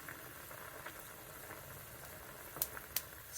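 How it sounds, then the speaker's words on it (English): Hot pork fat bubbles and sizzles in a pan while lard renders, with a little water still cooking off. A faint, steady fizzing hiss carries a few sharper pops near the end, and nobody speaks. "See how that's bubbling? There's still a little bit of water left, but mostly oil."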